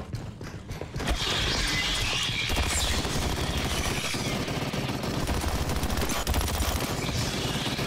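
Sustained gunfire in the sci-fi shooter Aliens Fireteam Elite, dense rapid bursts filling several seconds over the game's background rumble.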